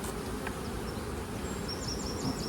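Italian honey bees at an opened hive give a close, continuous, dense buzzing drone with no pauses.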